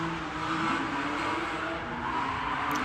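BMW E36 compact street-class drift car at a Cyprus drift practice, handbraking into a drift while chasing; steady distant engine drone with faint tyre noise, moderate and continuous throughout.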